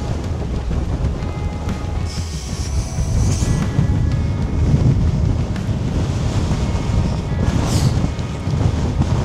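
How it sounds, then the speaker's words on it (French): Strong, gusty wind batters the microphone on an exposed mountain hiking trail in the Drôme, a loud, continuous buffeting roar that swells and eases, with no talking. "Un vent à décorner les bœufs quoi."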